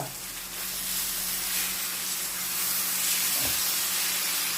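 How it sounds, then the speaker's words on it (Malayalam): Fish pieces frying in a pan while being flipped one by one, a steady close sizzle and hiss with a soft clatter near the end. "നമുക്ക് ഓരോ മീനും ഇതാ അങ്ങനെ മറിച്ച് കൊടുക്കാം കേട്ടോ"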